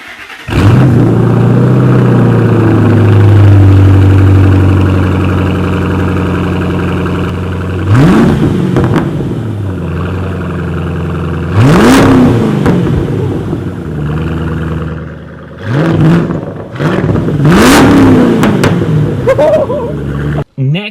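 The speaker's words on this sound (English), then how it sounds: "Now give us the muffler delete." A Ford Mustang with a muffler delete revs hard: a long loud idle-rev drone, then several sharp throttle blips rising and falling in quick succession, close and raw.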